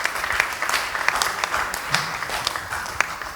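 A church audience applauds in a steady, dense patter of clapping with sharper individual claps standing out, moderately close and continuous throughout.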